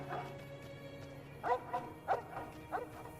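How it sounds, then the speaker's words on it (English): A puppy named Cheyenne barking inside Fallout New Vegas, three or four short, yappy barks at moderate distance over a low game ambience hum. "That's a noisy puppy you got there."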